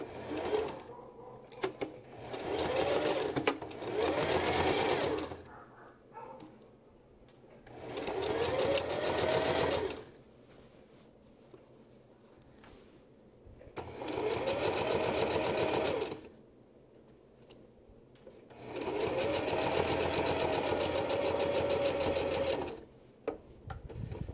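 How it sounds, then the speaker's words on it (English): A sewing machine back stitches along a fabric edge in several loud runs of rapid mechanical whirring, each a few seconds long, separated by quiet pauses with faint handling noise. "I'm going to back stitch here at the very beginning."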